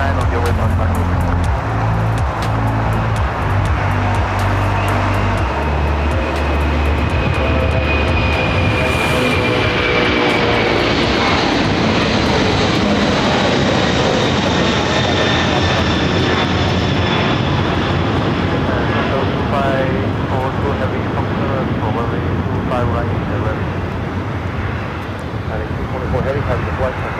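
Boeing 747 jet airliner engines at LAX, a loud sustained roar with a rising whine that swells and then holds steadily.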